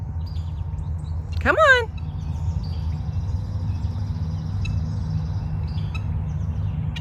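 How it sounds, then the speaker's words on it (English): A single bird gives a quick rising chirp once, close and clear, outdoors on a sunny day, while someone talks to his dog over steady low background rumble. "the birds are chirping"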